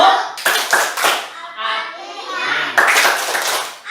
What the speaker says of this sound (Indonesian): kita akan belajar tentang tepuk Al-Fatihah